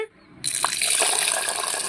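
After a brief quiet start, a steady rush of water pours over soaked rice for most of the clip, with a small splash early on.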